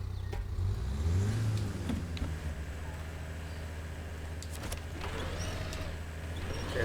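An off-road vehicle's engine revs steadily in low gear on a steep first climb, a continuous close rumble that swells briefly early on and holds throughout.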